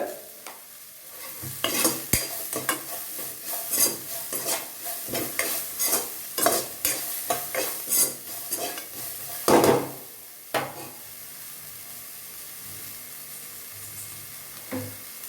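Onion with salt sautéing in a pan, stirred with repeated scraping and clattering strokes of a spoon over a constant frying sizzle, close and loud, the stirring easing off near the end.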